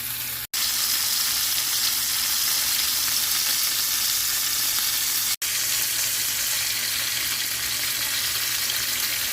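Chicken sears in a hot pan with garlic compound butter, giving a loud, steady sizzle that runs without a break and has no talking over it.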